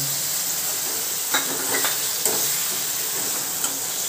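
Steady hissing sizzle of large onion pieces and green chilies frying in hot oil, with a few brief clinks and scrapes of stirring; no talking.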